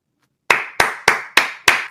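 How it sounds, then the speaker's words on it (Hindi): Five sharp hand claps from a single person, evenly spaced and close, each crisp and dry with a quick decay, following a short moment of silence. "मैं आपके लिए खड़ा होकर ताली बजा रहा हूं"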